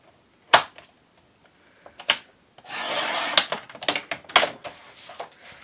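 A piece of wood being sawn down to 1 inch, with a few sharp knocks first, then a run of raspy back-and-forth strokes up close, broken by brief pauses.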